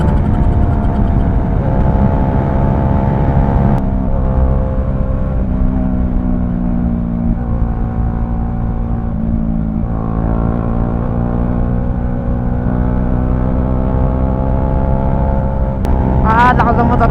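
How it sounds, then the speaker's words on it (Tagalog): Motorcycles ridden fast on a touring loop road in Mindoro, a steady loud engine drone with shifting tones throughout, near and continuous, with a brief rise in pitch near the end. "Lakas ang motor nila"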